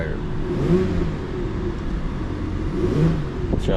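A BMW V12 engine, due an oil service, revs smoothly at close range in two swelling pushes over a steady low idle rumble, with no talking.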